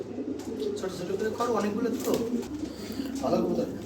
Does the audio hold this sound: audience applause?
no